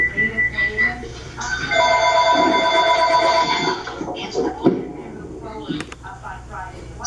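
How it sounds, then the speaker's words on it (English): A mobile phone rings with a repeating electronic tone that lasts a couple of seconds and then stops, while someone talks over and around it in a room. "that's my phone ringing."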